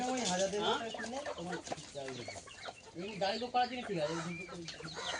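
Chickens cluck and murmur close by in a village house, short throaty calls overlapping one another, with someone speaking softly among them.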